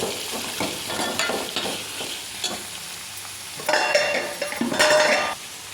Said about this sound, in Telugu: ఇప్పుడు మనం వెల్లిపాయలు వేసుకుందాం. అదేవిధంగా కరివేపాకు, కూరగాయలు కూడా వేసుకుందాం. ఒకసారి కలుపుకొని